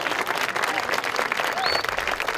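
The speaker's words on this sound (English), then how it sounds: "I guess we're clapping between each other." Audience applause at a school athletic awards ceremony, dense steady clapping from a crowd filling the room, loud and close, with faint voices mixed in.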